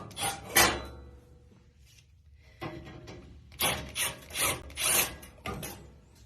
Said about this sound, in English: we're going to take this metal panel off